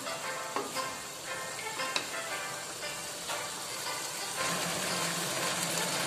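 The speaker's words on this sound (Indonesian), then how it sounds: "kita masukkan sayurannya, bawang bombay dan cabai-cabainya. Lalu ini kita aduk." Beef, onion and chilies sizzle steadily in a hot pan during a stir-fry for black pepper beef, a continuous bright crackling hiss with occasional clinks and a slight swell near the end.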